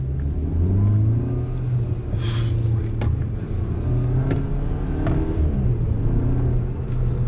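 A 2022 Cupra Formentor VZ's exhaust drones and rises as it accelerates through gears, with deep rumbling revs and a few sharp paddle-shift clicks, heard from inside the car.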